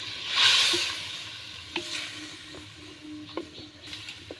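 Ground poppy-seed spice paste and water are added to a simmering fish curry with raw banana; a brief burst of hissing sizzle, then soft scattered clinks and stirring sounds in a quiet kitchen.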